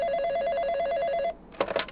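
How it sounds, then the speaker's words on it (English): A telephone bell rings in a long trilling burst, stops, then starts a second ring, loud and close in a quiet room. "Answer the goddamn phone."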